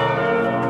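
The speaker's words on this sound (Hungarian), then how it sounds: "Zúgtak a harangok a hétfői pünkösdi szentmisén." Church bells ring for a Pentecost Monday mass in Sopron, a brief, loud, sustained metallic tone with rich overtones heard alone.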